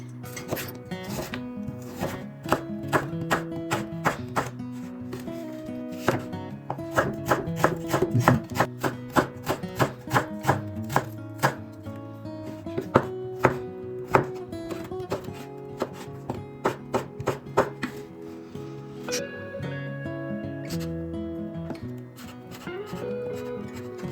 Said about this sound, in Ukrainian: Починаємо з нарізання овочів.